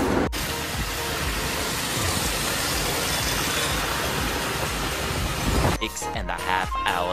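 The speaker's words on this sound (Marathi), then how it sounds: "2-3 दिवस झाले खूप पाऊस आहे" Heavy monsoon rain that has poured for two or three days, a dense, steady roar filling the scene for several seconds, then cutting off into quieter mixed noise near the end with no speech.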